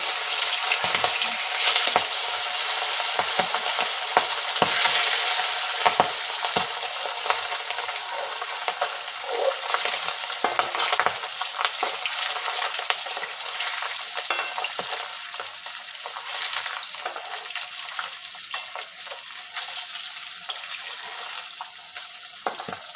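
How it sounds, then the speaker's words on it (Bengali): Pabda fish frying in hot mustard oil, a dense, continuous crackling sizzle close up with scattered sharper pops, steady and alone for the whole stretch. "এইবার আমি আস্তে আস্তে পাবদা মাছগুলো তেলে ছেড়ে দেবো"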